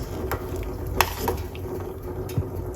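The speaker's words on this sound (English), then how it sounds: "Put that straight inside of it. Give that a mix." Garlic being stirred into a pot of tea, with a few light clinks and scrapes of a utensil over a low bubbling simmer, close and fairly quiet.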